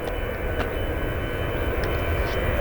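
A jet airliner roars steadily while departing runway 23 left at Manchester Airport, heard from the south side near the rotation point as a loud, continuous broadband engine rumble that grows slightly toward the end.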